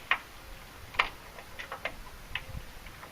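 A hand wrench snugs a bolt on a Ford Super Duty hub bearing during a hub bearing replacement, giving a handful of sharp, quiet ratcheting clicks spaced out over a few seconds in a calm garage.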